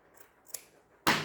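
Scissors snip once through fabric while making a boxer garment, a single close, sharp cut after a near-silent pause with faint handling rustle.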